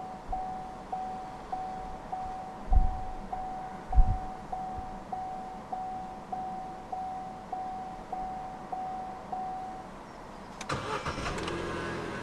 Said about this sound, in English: to start, put your foot on the clutch, insert the key into the slot right here, and twist it